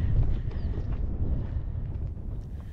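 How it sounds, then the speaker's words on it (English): Strong wind on a hilltop buffets and roars continuously against the microphone, a heavy low rumble with no voices. "It is very windy."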